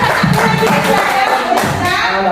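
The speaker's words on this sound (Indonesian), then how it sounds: "tepuk tangan dulu untuk Bu Rizka" An audience claps for Bu Rizka at a school training session on positive culture, a dense, steady burst of hands close by, with some voices mingled in.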